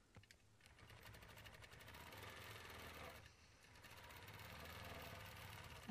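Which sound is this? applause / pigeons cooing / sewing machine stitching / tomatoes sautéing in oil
sewing machine stitching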